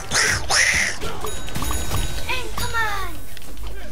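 Cartoonish duck quacks from Plants vs Zombies Garden Warfare 2, several loud nasal quacks in quick succession near the start, followed by more game sound effects and chatter.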